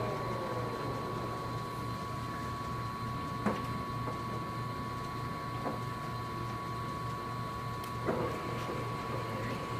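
A Stanko 1A983 hollow spindle engine lathe running at low speed after a spindle change gives a quiet, steady mechanical hum with a constant tone and a few faint knocks and clicks.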